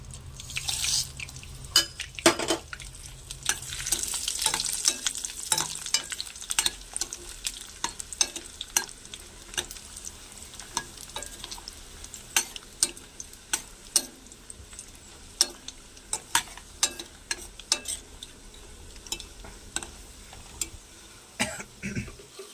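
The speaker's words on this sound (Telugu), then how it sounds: "సో ఈ మిరపకాయలు ఏగుతున్నప్పుడే ఇప్పుడు మనం కొంచెం లైట్గా కలర్ చేంజ్ అయింది కదండి ఇప్పుడు ఈ దినుసులు వేసుకోవాలి" Dried red chillies and spices frying in a pan for a gongura chana dal curry, with a steady soft sizzle and frequent sharp stirring clicks and scrapes throughout, close by with no talk.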